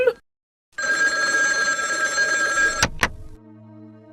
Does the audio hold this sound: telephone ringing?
yes